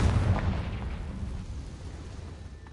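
In Hogwarts Legacy, a Confringo fire-blast spell goes off as a deep, booming explosion that hits hard at the start and then rumbles away into a fading tail.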